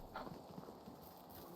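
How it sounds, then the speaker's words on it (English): Donkey hooves clip-clopping in the medieval survival game Medieval Dynasty, a few soft, quick hoof taps in a short burst, faint and close with no talk. "I have a new donkey."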